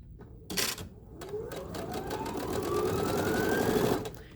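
A sewing machine stitches a pieced quilt border, starting with a few short bursts and then running steadily as its motor whine rises in pitch, close and fairly loud with no speech.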